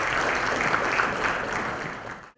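An audience at a teen awards event gives a welcoming round of applause. The clapping is dense and moderately loud, swells briefly, then drops away sharply at the end.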